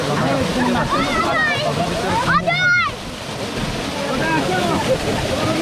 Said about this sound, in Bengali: ঝর্ণার পানির স্রোত মোটামুটি আছে